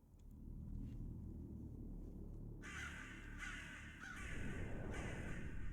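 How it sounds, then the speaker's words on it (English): Crows caw in the video game Little Goody Two Shoes: a few loud, harsh calls come in a loose rhythm over a steady low rumble of game ambience, with no talking. "it's probably the crows"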